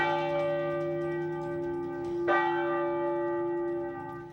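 Church bells tolling with long ringing overtones, a fresh strike partway through blooming over the lingering hum.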